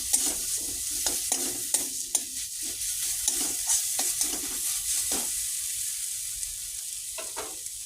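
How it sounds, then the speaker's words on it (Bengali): Chilli and turmeric powder stirred into a spice paste frying in a pan. A steady sizzle runs throughout, broken by repeated scraping and clinking strokes of a spatula, close and fairly loud, with no voices. "এখন দিয়ে দিচ্ছি লঙ্কার গুঁড়ো দিয়ে দিচ্ছি হলুদের গুঁড়ো আর একটু ভালো করে কষাবো"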